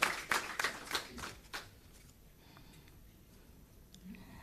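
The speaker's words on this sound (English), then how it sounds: "give her a big round of applause" Audience applause at a nurses' symposium in Seychelles, a brief burst of clapping that fades within about two seconds, leaving a quiet hall.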